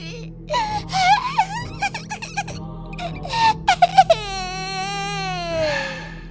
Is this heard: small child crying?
yes